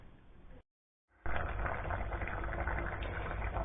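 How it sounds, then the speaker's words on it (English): A steady, dense bubbling roar of oliaigua, a Menorcan soup, boiling hard in a pot, continuous and close after a brief silent gap. "I've been boiling it quite viciously for the past 20 minutes or so."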